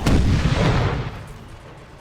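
A single massed musket volley booms out in Napoleon Total War during the second battle of Lisbon, a sharp loud crack trailing into a long rolling rumble that fades over two seconds, with no voices.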